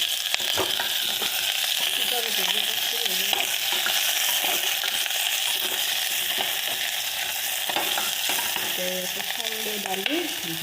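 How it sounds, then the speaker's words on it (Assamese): Kohlrabi, ridge gourd and small potatoes fry in a pan with a steady loud sizzle, broken by repeated scraping stirs of a spatula against the metal, with no voices. "এইখিনি ভাজি ল'ব লাগিব"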